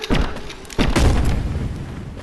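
Two loud, booming gunshots from a gun in the VR game Animal Company ring out close by, the second blast following a little under a second after the first, each trailing off into a noisy rumble.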